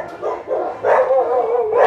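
A dog at an animal shelter barks loudly and close by, with a few sharp, yipping barks in quick succession.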